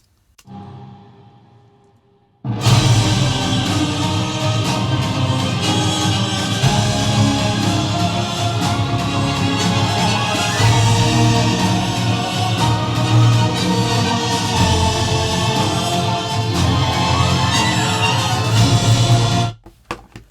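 Loud music played at around 100 decibels blasts in after a brief quiet lead-in, then holds a dense, continuous, full-range sound for about seventeen seconds before cutting off abruptly.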